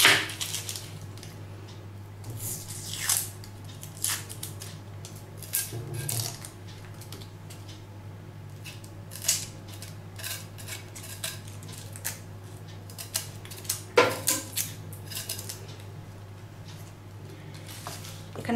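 A knife taps against a cutting board in irregular chops as an onion is cut into small pieces, close and fairly quiet over a steady low hum.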